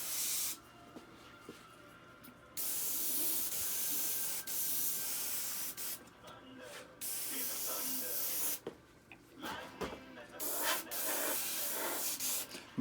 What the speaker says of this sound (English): Sort of moving it as you spray.